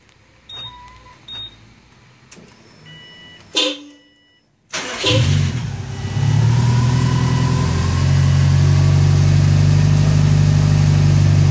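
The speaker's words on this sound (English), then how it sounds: "Started up the vehicle" A Subaru fitted with an OEM RS-4LX remote start and Perrin equal-length headers cranks over after a few soft beeps and clicks, then catches into a loud, steady idle with a deep rumble that holds to the end.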